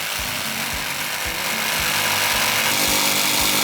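A power tool shapes a timber bracket cut from leftover wood, giving a steady loud mechanical whir with repeated low thumps at a regular pace across the whole stretch, no voices.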